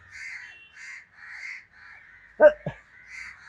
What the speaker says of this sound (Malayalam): ഈ ജില്ലയിലുള്ള ഫുൾ കാക്കയുണ്ടല്ലോ ഇവിടെ